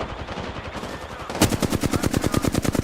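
Rapid automatic gunfire in the Apex Legends shooter game. Loud, evenly spaced shots fire in a fast, unbroken stream, and they grow sharper and more intense after a softer opening.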